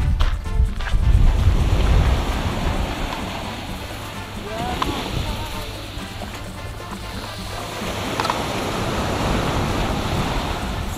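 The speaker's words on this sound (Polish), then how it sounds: "I morze." Sea surf rolling in at dawn, a steady broadband wash of waves with wind buffeting the microphone, loudest in the first couple of seconds and then settling into a continuous, moderately near roar.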